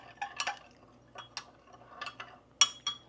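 A utensil scrapes and clinks against a bowl while stirring a maple syrup salad dressing, giving scattered light taps and chinks at close range over a quiet room hum.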